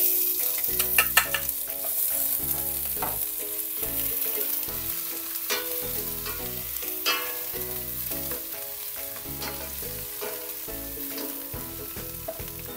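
Garlic and onion sauté in a pan for a pork belly lechon paksiw, giving a steady sizzle with occasional sharp crackles, set against a rhythmic melodic background, no speech.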